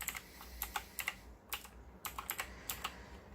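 Quick bursts of keystrokes on a computer keyboard as a command is entered at a command prompt, close and fairly soft, in irregular clusters separated by short pauses, with no voices.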